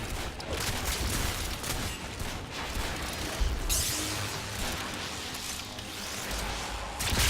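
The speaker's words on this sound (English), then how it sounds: "Shoots through ammo insanely quick, but as you can see, I just killed 3 enemies at once there." Rapid automatic gunfire from a fast-firing weapon in the shooter Warframe, with dense bursts of shots, bouncing impacts and whooshes layered over game noise; no voices.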